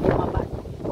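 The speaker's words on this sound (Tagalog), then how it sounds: "Lakas ng hangin." Heavy wind buffeting the microphone outdoors in Tagaytay, a continuous low rumbling roar that stays loud throughout.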